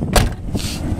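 A solid thud of a heavy 1974 Pontiac Grand LeMans door shutting, followed by a brief second clunk and faint rattle.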